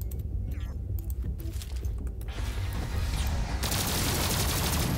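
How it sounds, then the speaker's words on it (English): Rapid continuous gunfire from the fastest-firing gun in the video game Zombotron Remake, starting as scattered shots and building into a dense, loud, steady stream of fire over the last seconds. "You know what gun I have? The fastest firing gun in the game."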